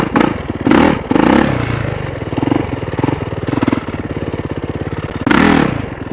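A motorcycle revving hard during wheelie practice: a close, loud engine with a rapid throbbing beat, several sharp throttle bursts that rise and drop back, and an uneven clattering idle between them.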